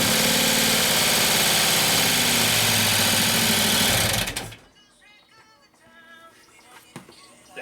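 A Harley-Davidson Road Glide (FLH) with a twin cam engine, running after a camshaft install, gives a loud, steady, dense mechanical rumble for about four seconds, then cuts off. Faint talk and clatter follow in the quiet.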